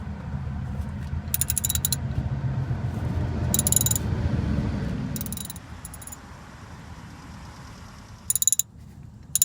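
Ratchet wrench loosening a tight oil pressure sensor on a Dodge Neon in a garage, a steady grinding mechanical clicking for about five seconds, then several short sharp clicking bursts, close and moderately loud with no talk.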